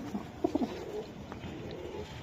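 Budapest racing pigeon cooing in short, soft low bursts at close range, with a few quick coos near the start over a quiet, hissy background.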